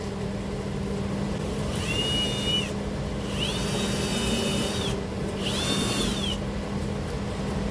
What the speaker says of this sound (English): I'm gonna drill it back down through there.